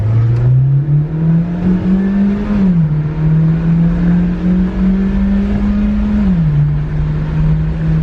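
A boosted SAAB car accelerates hard through a pull, its engine note climbing steadily loud and close with a brief dip around each gear change, continuous roar with no talking.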